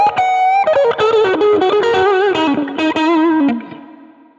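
Electric guitar played through an Axe-Fx III with a tone on pickup position 4, a loud bluesy run of sustained, slightly overdriven notes and bends that rings out and fades at the end.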